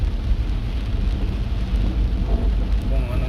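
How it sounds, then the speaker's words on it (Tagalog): Heavy, steady rain pours outside during a storm with wind, a dense continuous hiss with low rumbling underneath, close and loud throughout without a break. "Ngayon malakas ang ulan, tuloy-tuloy ang ulan."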